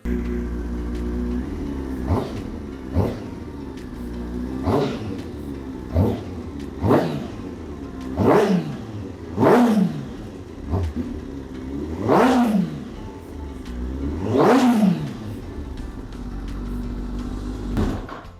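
A motorcycle engine revs hard again and again, each sharp rise in pitch falling back to a steady idle, loud and close with no talking.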